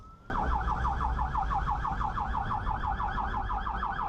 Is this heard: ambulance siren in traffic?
yes